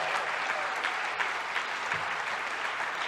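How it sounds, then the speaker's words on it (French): Steady applause fills the room as an audience claps during a political speech at a Parti Québécois gathering, a continuous wash of clapping with no break. "Ça mérite vraiment un applaudissement."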